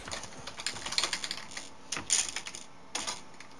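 Computer keyboard typing in quick clustered bursts of light clicks, with short pauses between the runs, close and fairly quiet.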